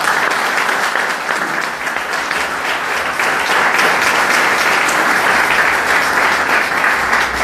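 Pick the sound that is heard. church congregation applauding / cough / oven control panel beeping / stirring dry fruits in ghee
church congregation applauding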